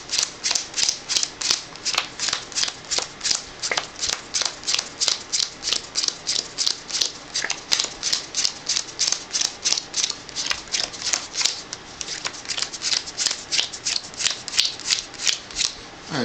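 Playing cards are dealt one after another into piles, a quick, even run of crisp flicks and slaps that repeats steadily for the whole stretch, close by and with no talking.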